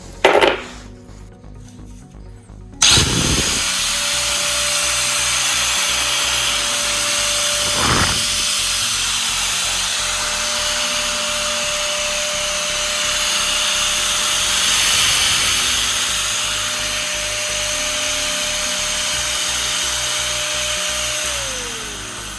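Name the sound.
angle grinder running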